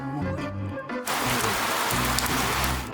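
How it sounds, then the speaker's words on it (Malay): Rain pours out of an upside-down umbrella in a video game, a dense, even hiss that bursts in after a brief quieter moment and then holds steady. "Hujan keluar dari payung ni."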